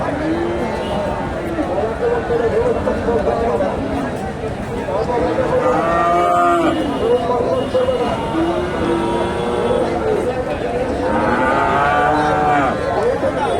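Friesian bulls low and moo repeatedly at a busy cattle market in Bogura, loud and close, with a murmur of people talking around them.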